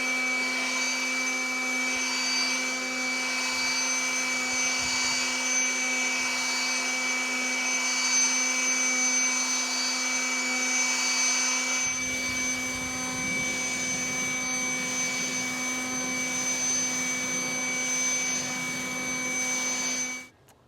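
Ryobi 18 volt battery leaf blower running outdoors in a yard, a loud steady whine with a constant tonal hum held for about twenty seconds and then cut off abruptly.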